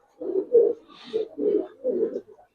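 A pigeon coos softly several times in a short series, close by with a faint higher chirp in between, and no talking over it.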